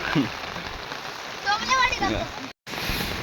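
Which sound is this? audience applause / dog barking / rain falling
rain falling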